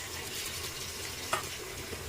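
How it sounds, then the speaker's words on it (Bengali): Shrimp fry with chopped onion in hot oil, a constant close sizzle with a brief sharper crackle partway through, no voices. "পেঁয়াজের সাথে চিংড়ি মাছটা ভেজে নিচ্ছি।"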